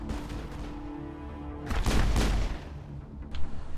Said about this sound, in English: he's using the pistols